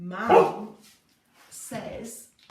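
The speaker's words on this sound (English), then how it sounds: "do excuse the dog, she's very excitable" An excitable dog barks in a home kitchen, a couple of loud close yaps mixed with a person talking over them.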